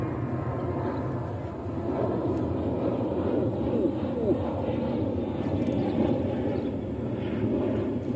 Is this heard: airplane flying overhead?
yes